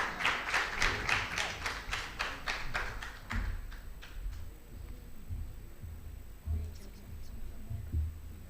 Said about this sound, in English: A big round of applause from Ria Tongbram, everyone.